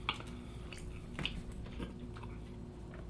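Someone chews a fudgy brownie close to the microphone, with soft moist squishes and a few small bites spread across a few seconds at low volume, without talking.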